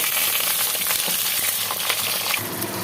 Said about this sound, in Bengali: তারপর তেলে বেগুনগুলো দিয়ে দিলাম বেগুনগুলো একটু ভালো করে ভেজে